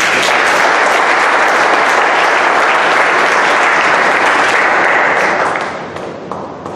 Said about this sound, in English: Let us give God all the glory with a mighty applause.